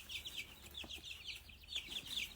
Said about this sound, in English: pack of chickens. Here they all are.